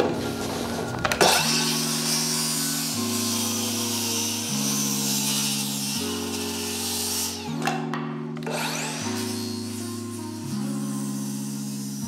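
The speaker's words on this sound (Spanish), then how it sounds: "qué serrucho recomiendo, es este. Es el Makita de 36 voltios" Makita 36-volt power saw cutting a wooden stair stringer, running steadily with a droning, stepping motor tone for about twelve seconds, loud and close, with a brief change in load midway.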